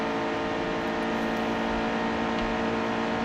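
Race truck engine at Daytona in the NASCAR Heat 2 video game, a steady loud droning roar held at a constant pitch throughout, with no talk.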